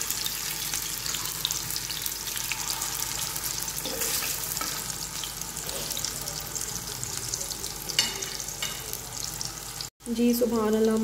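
Korean-style chicken kababs frying over a low flame, a steady soft sizzle of oil running throughout with faint kitchen clatter and a brief gap near the end.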